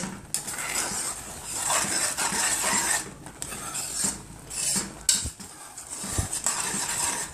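A spoon scrapes and stirs a thick mixture in a pot over medium heat, with irregular clinks and rubbing scrapes against the pot sides repeating close by and no talking.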